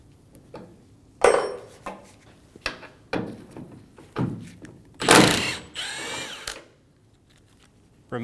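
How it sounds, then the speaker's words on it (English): A power tool with a T45 bit backs out the tailgate striker bolt in the bed of a Ram 2500, coming in several short ratcheting bursts of varying length with quiet gaps between, close and fairly loud. "Using a T45, we're going to remove the striker bolt."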